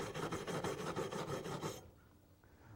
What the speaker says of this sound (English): We'll start off by using this wire brush to clean off the surface.